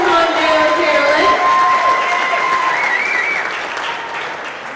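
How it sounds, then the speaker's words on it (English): An office audience at a monthly celebration applauds and cheers an employee's five-year work anniversary, loud at first and then tapering off, with voices and whoops mixed in. "We can give her a round of applause though."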